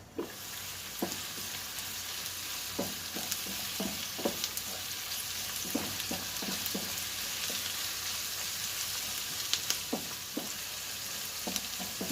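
Onions fry on low heat for chicken biryani, giving a soft continuous sizzle close by, broken by occasional scraping stirs and light clinks, with no voices.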